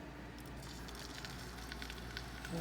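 Patted-dry shrimp go into a hot skillet, where they sizzle in a soft, continuous crackle with small pops scattered throughout.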